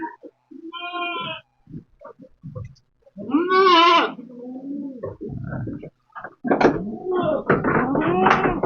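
Goats on an Indonesian farm, fed cassava stems, bleat repeatedly in loud wavering calls, close by, with quiet gaps between bursts and several animals overlapping toward the end.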